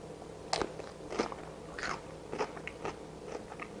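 Several crisp crunching bites of fermented zucchini, spaced about a second apart, close and clear in a quiet room, with chewing between them.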